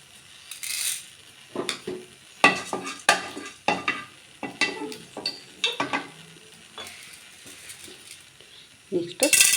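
Fenugreek seeds sizzle in hot oil in a pan for idli sambar, with a soft frying hiss broken by repeated clinks and scrapes of a spoon stirring against the metal.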